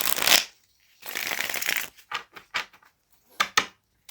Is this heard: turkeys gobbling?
no